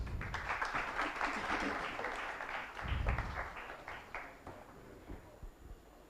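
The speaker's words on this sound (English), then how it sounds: "Could we give Victor a round of applause" Audience at a health technology summit applauding a presenter, a burst of many hands that swells and then tapers off, with a few voices mixed in.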